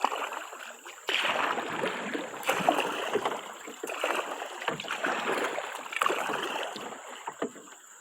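A kayak paddle dips and pulls through water in a repeated rhythm, with splashes and swishes about once a second, close by, over a faint steady hum.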